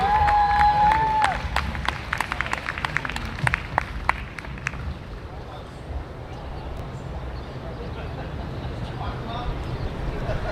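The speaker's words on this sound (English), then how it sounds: "big round of applause for our two musicians, Iolani and Akoliko Martin" An audience applauds two musicians at a bandstand event. The clapping is moderately loud and dense at first, with a voice over it, then thins out and gives way to a low background murmur.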